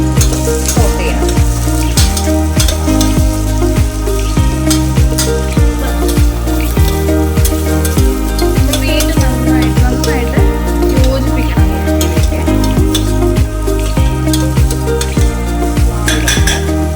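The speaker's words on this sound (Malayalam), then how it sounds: "സോട്ട് ചെയ്യണം." Carrots and beans sautéed in a hot pan for vegetable pulao, a loud continuous sizzle with a steady rhythm of spoon stirring and scraping against the pan, and music playing underneath.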